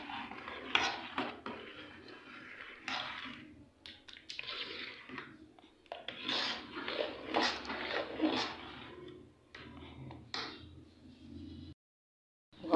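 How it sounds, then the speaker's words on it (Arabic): Ground rice being stirred in a pot of boiling water while making sweet zarda rice pudding, with repeated scraping and clinking of a spoon against the pot and soft bubbling, close by and fairly busy, with no talking. "هسه بنات اظل احرك بيه حتى تروح هاي التكتلات كلها اللي تصير بيه"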